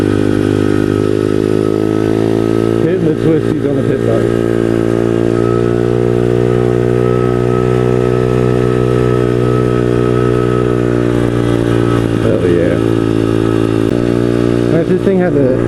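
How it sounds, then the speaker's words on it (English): Pit bike engine revving steadily at close range while riding winding twisty roads, a loud sustained drone with shifting pitch and brief throttle changes throughout. "Hitting the twisties on the pit bike."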